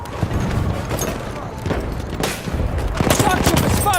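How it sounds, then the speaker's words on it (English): Machine gun fire in a war video game rattles in rapid bursts with booming shots, loud and dense throughout, and a voice is heard over the battle. "Machine gun over there!"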